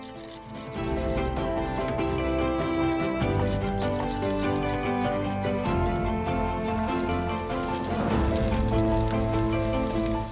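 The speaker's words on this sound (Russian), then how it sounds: "Добавляем в лук черешки пак-чой и обжариваем 2 минуты." Pak choi stalks sizzle and fry with onion in a hot pan, a steady crackling hiss under a constant bed of music.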